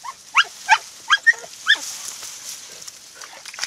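A Spanish Podenco Orito hunting puppy yelps in bramble thickets, giving about five sharp, high yips in quick succession before trailing off into quieter rustling and distant whimpers.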